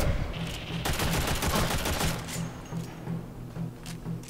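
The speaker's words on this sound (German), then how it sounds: "Da hat gerade irgendwas richtig übel geschossen" Heavy, sustained gunfire in the video game Warframe, a dense stream of rapid shots that is loudest in the first half and then thins into scattered bursts, with no talk over it.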